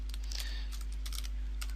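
Quick bursts of keystrokes on a computer keyboard as a folder name is typed, irregular clicks in short clusters, close and fairly quiet over a low steady hum, with no talking.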